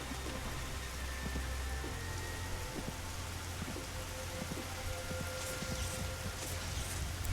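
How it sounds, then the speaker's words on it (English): Rain falls in the video game Dig or Die, a soft, even patter that continues throughout at low volume, with faint low rumbles beneath and no voices. "Bountiful rains have refilled the reservoir, kinda, mostly."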